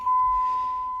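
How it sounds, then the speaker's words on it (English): A single steady electronic beep, one clear high tone held for about a second. "Sorry for the beeping, y'all."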